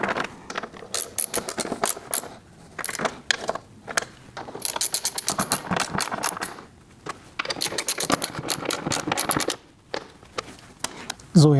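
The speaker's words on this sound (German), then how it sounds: "die großen Schrauben, die mache ich mit einem 16er fest." A ratchet with a 16 mm socket tightens large bolts on a BMW M2 Competition's reinforcement plate after a track day, giving rapid bursts of metallic clicking in repeated runs with short pauses, close and fairly loud.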